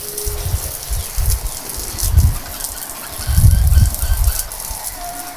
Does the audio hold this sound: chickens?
yes